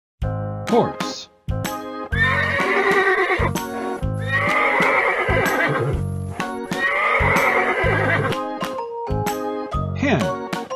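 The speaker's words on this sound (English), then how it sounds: "Horse." A horse neighs in two long, shaky whinnies, loud and near, over playful background music with chimes and short musical hits.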